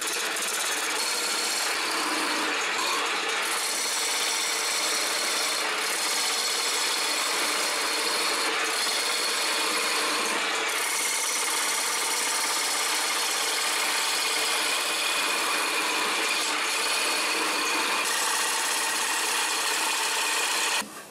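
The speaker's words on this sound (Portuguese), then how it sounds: "Bom, agora vou tornear por dentro." A wood lathe hollows out the inside of a wooden plate with a gouge, giving a steady, loud rasping and scraping of the tool on spinning wood that runs continuously throughout, with no talking.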